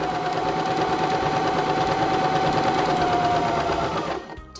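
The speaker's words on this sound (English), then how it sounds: "I'm going to sew to the end." A Baby Lock Zest sewing machine stitches pintucks in a fast, even, close whirring run that stops abruptly just before the end.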